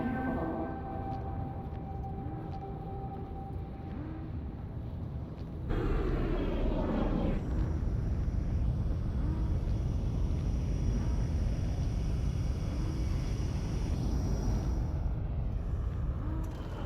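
Spaceship engines in the X4 space game rumble in a broad, steady roar that swells suddenly louder partway through and then holds, with no talking over it.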